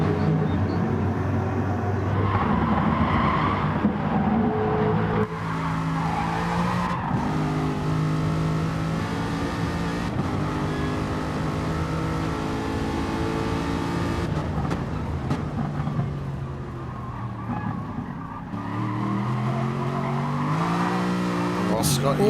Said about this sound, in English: Oh, Scotty's car looking really loose again.